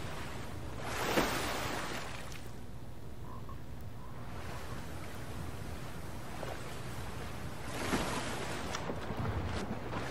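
A character swims and wades through water in Fortnite, giving soft sloshing and splashing with two louder surges of water, no voices.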